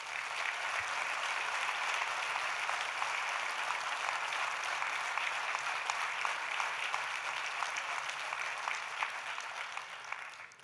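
An audience at a CFTC union gathering gives a long, steady round of applause for Bernard, dense continuous clapping that holds at an even level before thinning slightly at the end.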